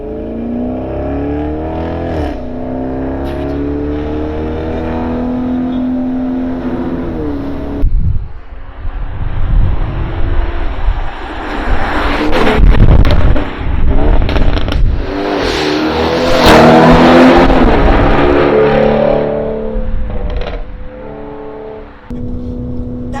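A tuned Audi RS7 making 750 hp and 1250 Nm idles with a deep drone, then its engine revs hard in loud rising and falling bursts as the car accelerates, roaring close by.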